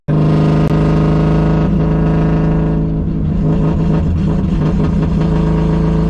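A Saab Sonett engine held at steady throttle, a loud, close, continuous drone with a strong humming tone and slight roughness throughout, no voices.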